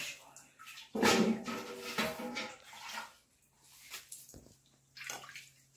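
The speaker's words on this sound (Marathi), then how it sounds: "आता आपल्याला देवाला पाण्याने धुवायचं आहे" Water splashes and pours while a stone Shiva pindi idol is washed for a traditional Konkan Ghatasthapana ritual, coming in uneven bursts and slops with short pauses, close by and moderately loud.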